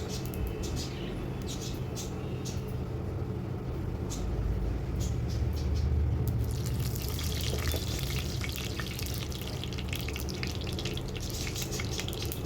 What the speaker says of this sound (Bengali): এবার আমি এই তেলের মধ্যে ফোটন দিয়ে দেব তেজপাতা আর গোটা জিরে